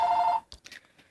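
A phone rings briefly, one steady electronic tone lasting under half a second, fairly loud and close, then cuts off into quiet room noise.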